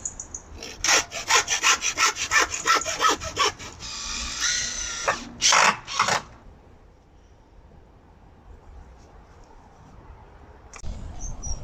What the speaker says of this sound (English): more sawing and screwing and dismantling pallets